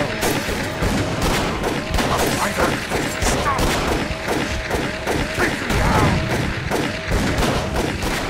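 Gunfire in the horror game Call of Cthulhu rattles out as a dense, continuous volley of loud shots and thuds. It stays close and relentless throughout.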